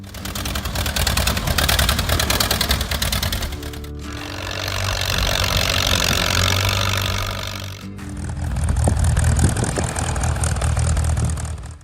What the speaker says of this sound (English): Allis-Chalmers WD45.